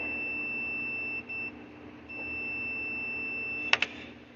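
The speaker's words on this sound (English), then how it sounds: "I'm sure you can probably hear the ohm meter beep." Steady high electronic tone from an ohm meter set to continuity while testing a Farmall M tractor starter, cutting out briefly twice, with a couple of sharp clicks near the end.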